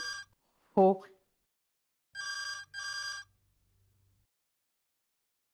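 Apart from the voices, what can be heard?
telephone ringing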